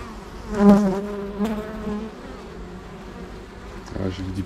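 Honey bees buzz at the entrance of a hive in an autumn apiary, making a dense, steady drone with individual bees flying close past. The buzzing is loud and near.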